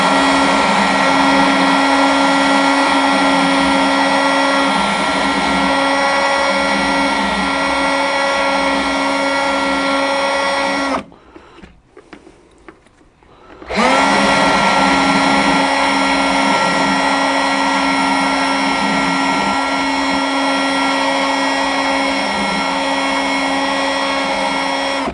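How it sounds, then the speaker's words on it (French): Rotary wire brush scrubbing surface rust off brake pad pins from a Dodge Charger SRT8, a loud steady whirring drone that cuts out briefly midway, then resumes. "Donc j'ai mes goupilles de plaquettes là. Ben pareil, je les brosse."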